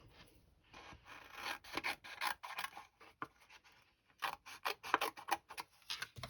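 Scissors trimming a paper strawberry leaf shape, quiet close snips and rasping cuts in irregular bursts with a short pause midway, no talking.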